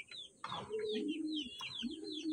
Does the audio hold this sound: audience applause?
no